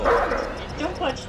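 A dog in the video game Until Dawn gives a couple of short, yipping barks close by, heard amid speech from players.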